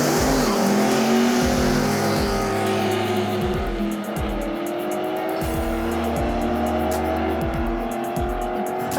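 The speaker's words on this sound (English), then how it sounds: "That gives Joel and his VL Calais a chance to give it a hot launch." Holden VL Calais doing a hot launch on a drag strip, engine roaring loud and close with revving and tire squeal as it pulls away, a sustained rising engine note and tire chirps running throughout.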